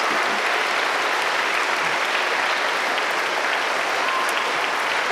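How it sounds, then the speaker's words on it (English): School audience at a poetry slam applauding, a dense, steady wash of clapping from many hands that holds evenly loud for the whole stretch with no talk. "let's give another round of applause or snaps for those people."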